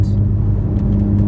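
A turbocharged car running at about 23 psi of boost on grippy budget tires, its engine droning steadily and loudly up close as it pulls hard under acceleration, with no talking.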